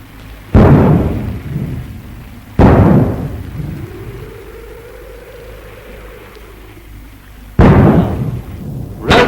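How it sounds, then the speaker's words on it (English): A Thornycroft depth charge thrower fires three times: each shot is a loud, heavy boom with a long fading rumble. Between the second and third shots, a rising-then-falling whooshing tone passes overhead. "the Thornycroft depth charge thrower"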